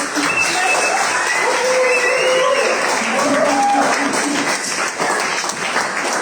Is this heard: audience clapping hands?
yes